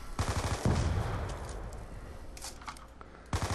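Rapid automatic gunfire in a video game, rattling bursts up close and loud at the start, trailing off into sustained shooting and echoing reports, then a fresh burst at the end, with no talking.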